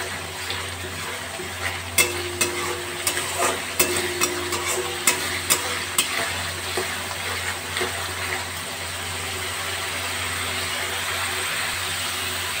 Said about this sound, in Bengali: এবার আমি গ্যাসের ফ্লেমটা বাড়িয়ে ভালো করে এটাকে কষতে থাকবো।